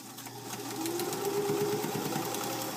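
Sewing machine stitching a quilt seam, a close, rapid rhythmic whir that builds and holds steady, alone with no talk.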